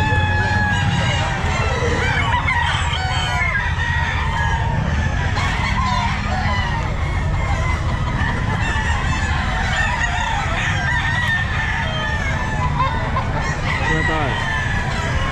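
Several gamecock roosters crowing and clucking at a busy outdoor pet market, a dense, loud chorus of overlapping calls, with a crowd murmuring in the background.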